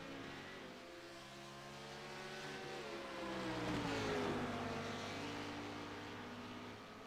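Several race cars from the Legacy Sports Car Series pulling out onto the track, engines droning and rising in a smooth swell from mid-distance, then easing off, with no talk.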